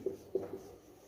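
An equation being written on a board, three short tapping strokes of chalk or marker in quick succession, faint and close with no talk.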